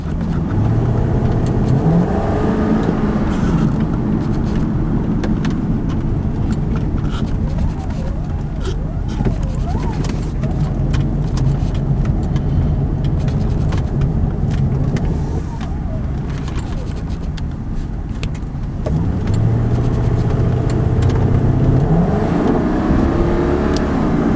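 A 2003 Ford Thunderbird's V8 engine idles and revs in a low, steady rumble close by, rising and falling in pitch a few times; no one speaks.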